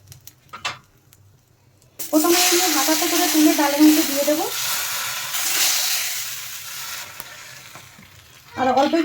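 Ghee is added to a dal tempering frying in oil, setting off a sudden loud hissing sizzle with a brief tonal whine, which settles into a softer crackle before another burst at the end.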